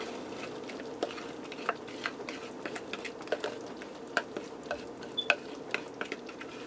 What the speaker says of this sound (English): We're going to go ahead and stir that down into our meat mixture.